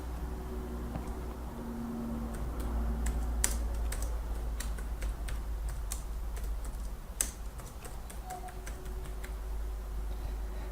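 Quiet, steady keystrokes on a computer keyboard as a project name is entered, irregular taps with a few sharper clicks over a low hum, no voices.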